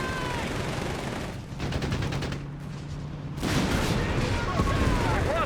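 Gunfire and machine-gun bursts in the World War II strategy game Company of Heroes 3, a dense, continuous battle din with a rapid stuttering burst in the middle and louder crackling fire at the end.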